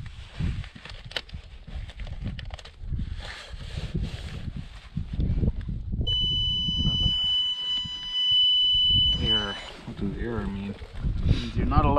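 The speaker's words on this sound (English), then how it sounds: "It makes it go beep." A snow bike's steady high electronic warning beep sounds for a few seconds while people talk over its low rumbling engine nearby.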